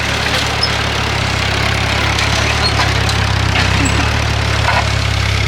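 A tractor engine idles and rumbles steadily with a low, constant drone throughout while clearing food plots, no voices heard.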